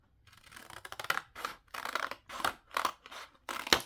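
Scissors snip through tissue paper for a 9x6 journal cover, about eight crisp close cuts in an uneven rhythm with brief pauses between them, no voices.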